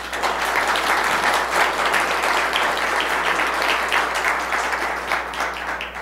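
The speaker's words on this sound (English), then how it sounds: "Please give him a round of applause." A crowd applauds steadily for a California attorney general candidate at a seated debate event, the clapping dense and sustained for the whole stretch with no voices over it.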